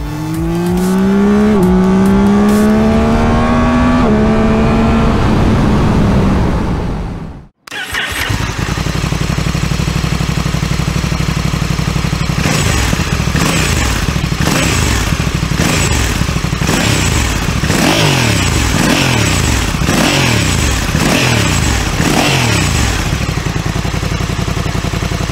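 A Yamaha Tracer 9 GT motorcycle accelerating uphill while staying in one gear, its engine note climbing steadily through the revs, loud and close with strong wind roar, a sharp dip mid-way, then sustained pulsing high-rev running.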